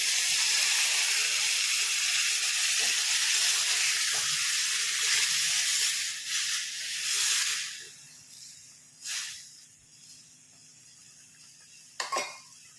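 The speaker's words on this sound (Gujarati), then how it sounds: "આપણે બે મિનિટ ઉકળવા દેશું" A loud steamy hiss and bubbling from a pan of banana and sev curry with added water fade away after several seconds, followed by a few faint clinks of utensils.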